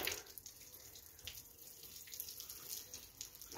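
Water pours steadily from a garden hose outdoors, a soft continuous splashing hiss that stays quiet and even from start to finish.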